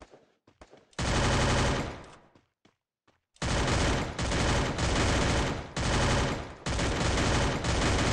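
Gunfire in a multiplayer video game shooter, long loud sustained bursts of automatic fire separated by brief pauses, with scattered single shots before them.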